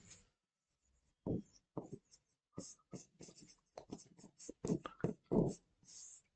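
Pen or marker writing a point down on a board or page during a classroom lesson on the atomic nucleus, a series of short scratchy strokes in quick irregular bursts, fairly close and with no talk over it.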